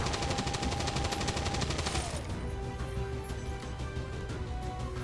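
Sustained rapid automatic gunfire as a soldier lays down suppressing fire on a sectoid in the video game XCOM 2, a dense loud burst for about two seconds, then fading into lighter shots and ringing game tones.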